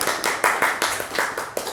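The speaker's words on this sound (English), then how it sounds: "please give a round of applause to Alexa" Small group applauding at a Toastmasters club meeting: a short burst of uneven hand claps, fairly close and moderately loud, with no talking over it.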